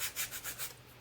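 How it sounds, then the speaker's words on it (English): A sanding stick rubs back and forth along the edges of a craft piece, about five quick close strokes in a steady rhythm before the scraping fades out. "I'm going to go back now and use this sanding stick"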